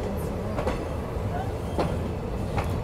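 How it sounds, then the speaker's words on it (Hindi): A train pulls into snowy Banihal station in Kashmir on the Delhi–Kashmir line, a steady near rumble of rolling stock with faint periodic wheel clicks and no talk. "देखिए बनिहाल में पहुंच चुकी है अपनी ट्रेन"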